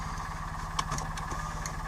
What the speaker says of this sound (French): On va éteindre le moteur parce qu'il n'y a pas de gasoil.